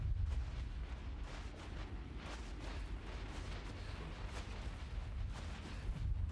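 Low, steady thumping rumble runs through the background of a NASA-themed video game, a continuous dull pounding with soft bursts layered over it and no speech.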